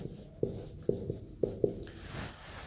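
A pen writes out a math solution on paper, with close scratchy strokes and a few sharp taps in an uneven rhythm, then softer scribbling.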